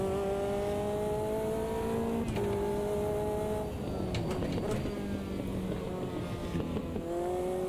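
A Lotus 620R in the Automobilista 2 racing sim, its engine droning at high revs with steady pitch climbs, dipping briefly during gear changes, then rising again; loud and continuous, with no talk over it.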